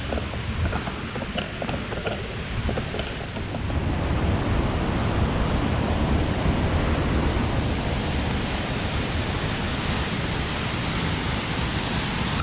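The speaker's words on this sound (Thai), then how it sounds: "อันนี้ไปแก่งน้ำตกตรงนี้ครับ" Rapids at the Ramman waterfall in a forest rush with a loud, steady, close roar of churning water that swells slightly after the first few seconds and continues unbroken, with no voices.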